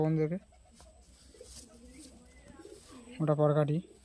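A female Giribaj roller pigeon coos in two bursts, one at the start and a louder one near the end, close by, with quiet handling noise and murmuring in between.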